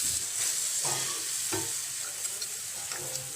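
Masala with tomato paste and a splash of water bubbles and sizzles in a pan for an Assamese vegetable dish, with a steady close crackle and a few stirring scrapes, no voices.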